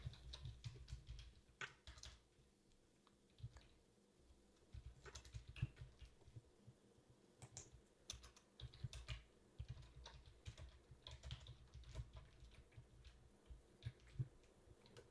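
Code is typed on a computer keyboard into an HTML file, with quick irregular runs of clicking keystrokes broken by short pauses, close and fairly quiet.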